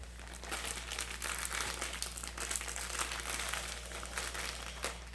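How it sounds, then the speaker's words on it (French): Thick paper packaging from a diamond painting kit being handled and unfolded, a steady soft crinkling and rustling that runs throughout, fairly quiet and close, with no talking. "le papier, il est quand même assez épais. Il fait beaucoup moins de bruit que les autres plastiques qu'on a l'habitude d'avoir."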